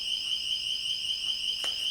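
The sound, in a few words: door alarm sounding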